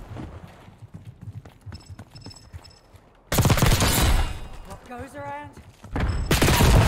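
Gunfire in Black Ops 6 multiplayer: soft scattered shots early, then a sudden loud burst of rapid automatic fire with ringing electronic tones, a brief lull and another loud volley, with voices talking over parts.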